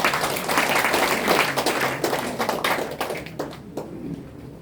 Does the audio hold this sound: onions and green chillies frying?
no